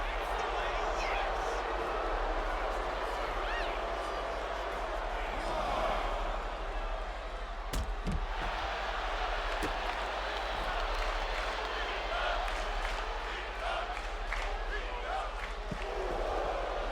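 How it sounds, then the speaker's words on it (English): Arena crowd noise from a WWE 2K25 wrestling match, a steady roar of cheering and chanting for Pete Dunne with scattered thuds and slams from the ring, continuous and fairly loud throughout. "the crowd are chanting for Pete Dunne"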